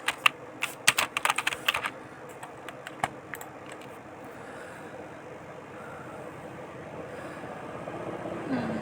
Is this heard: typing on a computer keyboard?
yes